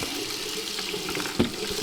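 Water runs steadily from a clogged bathroom faucet into a sink, giving a continuous close hiss and splash with one small bump partway through.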